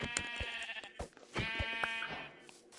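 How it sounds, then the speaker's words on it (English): Sheep bleat repeatedly in Minecraft, bright wavering cries with short gaps and a few clicks between them, fairly close with no talking. "Oh, it's a pink sheep."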